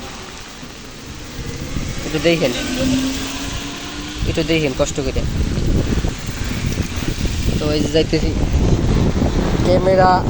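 Heavy rain and strong wind outdoors produce a loud, roaring wash of noise with wind buffeting the microphone, under someone talking over it.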